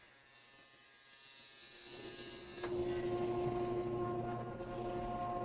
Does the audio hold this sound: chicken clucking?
no